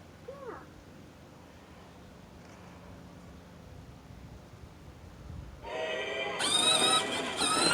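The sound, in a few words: toy train making its own train noises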